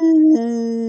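A voice imitating a wolf's howl at the moon, a single sustained tonal 'ow' that steps down in pitch partway and holds, close and alone.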